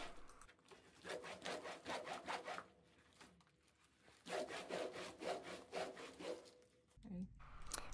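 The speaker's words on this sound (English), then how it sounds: "you can rub it over a table edge to help break it" A python skin being rubbed back and forth over a table edge during hide tanning, giving rapid rhythmic rasping strokes in two bursts, close but quiet, with a low voice murmuring at the end.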